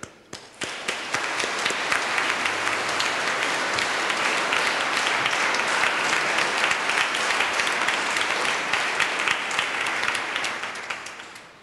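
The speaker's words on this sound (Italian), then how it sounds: "noi facciamo sempre anche un solito applauso" A church congregation breaks into sustained applause thanking the nuns, a dense wash of clapping that swells quickly, holds steady for about ten seconds, then tapers off.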